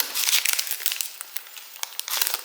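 Plastic packaging around a pair of manicure scissors being opened, rapid crinkling and rustling with sharp crackles, close up and continuous with no talk.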